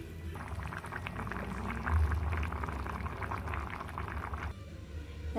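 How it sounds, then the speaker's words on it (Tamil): Brinjal and drumstick curry (kuzhambu) simmers at a steady boil, a soft continuous bubbling and gurgling heard close up on its own. "ஒரு நல்ல ஒரு கொதி வந்துடனே ஆஃப் பண்ணிடுது"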